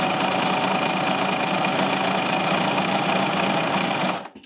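Serger overlocking knit fabric for a tee, a loud continuous whirring hum with fast chattering that holds steady for about four seconds and then stops abruptly.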